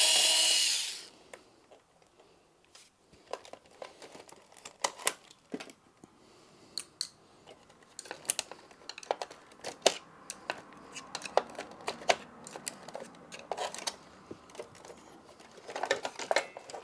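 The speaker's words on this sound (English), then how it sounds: "There's a screw here, so we'll take that out." Small screws are backed out of an original Xbox console while the DVD drive and hard drive caddy come apart, giving scattered close clicks, taps and scrapes of metal and plastic over near silence.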